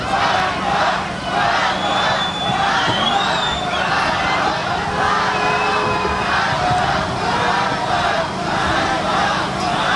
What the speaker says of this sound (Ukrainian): Криками ганьба зустріли львів'яни майже сотню беркутівців з опущеними головами